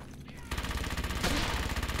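A machine gun lays down suppressing fire in the World War II shooter Brothers in Arms: Hell's Highway, a sudden dense burst of rapid, evenly spaced shots that continues steadily and loudly after a brief quieter lead-in.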